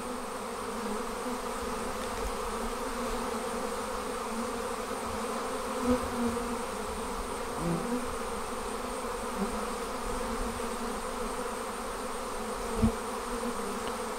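A swarm of honey bees leaving an observation hive buzzes in a continuous, even drone, with occasional faint individual bees passing close, and no voices.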